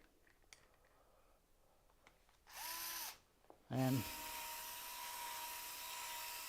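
A handheld power drill fitted with a sanding pad in a woodworking shop whirs in two short bursts, the second spinning up with a rising whine and then settling into a steady hum, with someone talking briefly beforehand.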